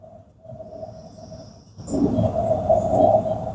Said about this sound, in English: Got another microphone close to the lantern, so hopefully you're going to be able to hear the roar once it gets fired up.